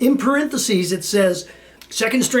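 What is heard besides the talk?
No everyday noise stands out behind the speech.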